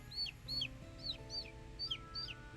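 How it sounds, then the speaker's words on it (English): A little chick noise from the video game Twisted Wonderland, a series of six short high chirping peeps in a steady rhythm, quiet and alone over a faint background hum. "I like the little chick noise though."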